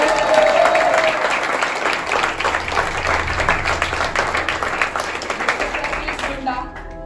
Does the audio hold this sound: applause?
yes